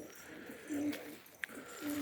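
Frightened pigeons shut inside their coop after a hawk attack give two low, soft coos, one early and one at the end, with a brief sharp sound between them and no voices.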